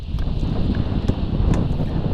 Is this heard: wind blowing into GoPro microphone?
yes